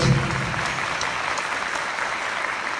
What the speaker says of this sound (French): Allez, applaudissez un peu.